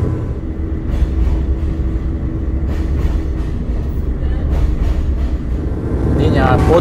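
Steady low rumble and rolling clatter of a passenger train running on the Iași–Hârlău rail line in Romania, heard from on board, continuous and fairly loud with a brighter metallic squeal toward the end.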